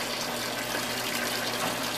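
Water runs from a tap in a steady, constant gushing stream under a faint low hum, close and unbroken for two seconds with no talking.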